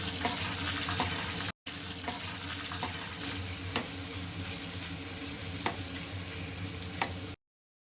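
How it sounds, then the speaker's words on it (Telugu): Korameenu (murrel) fish pieces coated in chili powder fry in hot oil with a steady, close crackling sizzle that runs almost unbroken, with a brief dropout early on and a few sharper pops and clinks. "ఆ పీసెస్ని ఆయిల్లో వేసి కొంచెం సేపు వేగనివ్వాలి."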